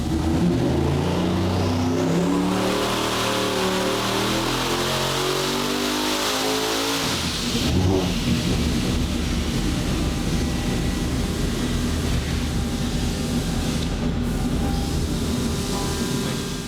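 A turbocharged car engine on a dyno revs hard in a sustained climbing pull, its rising whine sweeping upward, then drops and settles into a steady loud drone; no talk.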